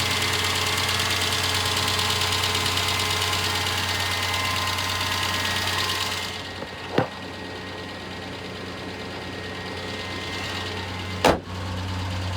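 The engine of a 1998 Ford Ranger, a former public works maintenance truck, idles steadily with a rhythmic knock, heard close and alone with no talk. Two sharp clicks stand out near the end.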